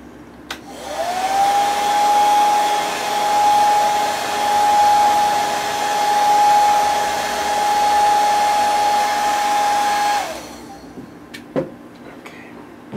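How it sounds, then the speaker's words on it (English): A hair dryer runs close by in a steady, loud, even whir for about ten seconds to dry paint on a baby bass pattern swimbait, then switches off, leaving a few small clicks and handling sounds. "I'm going to go ahead and set that up with a dryer"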